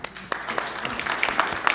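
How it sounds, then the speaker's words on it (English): Meeting audience at a city council session applauding together, a steady crackle of many hands clapping at close to moderate distance, with no speech over it. "I clap for the families"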